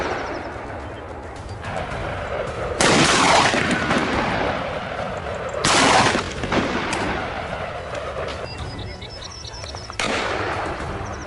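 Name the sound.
gunshot fired at a wild boar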